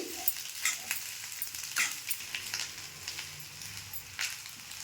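Egg rice stirred in a pan over a low gas flame, with a soft steady sizzle and intermittent scraping strokes of the spoon through the rice, faint and close, with no talking.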